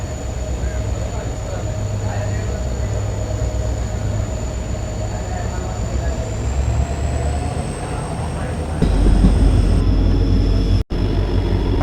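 A passenger train pulls out of Cherukara station on the Angadippuram to Ernakulam line, its steady rolling rumble carrying a high whining tone that grows louder near the end, with a brief sharp dropout.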